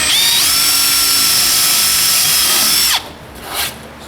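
Power drill with a countersink bit boring into a slot-ported subwoofer box for a 15-inch speaker, a loud, close, high whine held steady for about three seconds before it spins down, then a brief scrape.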